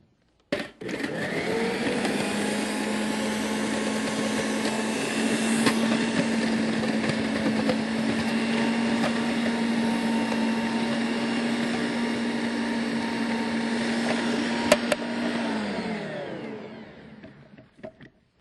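A food processor whirs steadily for about fifteen seconds as bell pepper, onion, olives and mushrooms are fed through without stopping, a loud continuous motor drone with a brief clunk at the start and a spin-down at the end.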